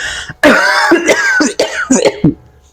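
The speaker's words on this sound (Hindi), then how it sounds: "अब खांस रहे हैं हम" A person coughs several times in quick succession, loud and close, with short rough bursts and brief pauses between them.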